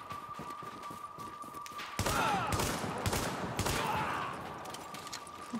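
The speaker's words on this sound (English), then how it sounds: "Give me a new shotgun a whirl" A new shotgun fires in the video game The Division: a cluster of loud, fairly close blasts and gunfire rings out for a couple of seconds over a quieter background hum, with no talk.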